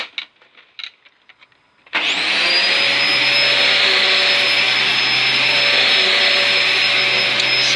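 A refurbished Dyson DC04 vacuum cleaner starts up and runs on carpet, its loud steady motor whine and airflow roar continuing without a break after a brief quiet stretch of faint handling noises.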